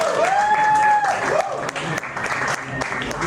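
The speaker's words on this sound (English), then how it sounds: "Ladies and gentlemen, please give a round of applause to my friend Josh Gonsalves." A crowd claps enthusiastically for a guest introduced on stage, brisk dense applause with a whoop or two, loud at first then slightly thinning over a few seconds.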